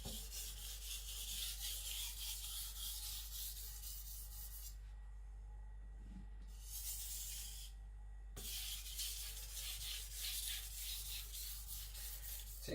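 A carbon-steel knife edge has its burr cut away with very light pressure, giving repeated soft rasping strokes in a steady rhythm, close and quiet, with a brief pause midway and no voices.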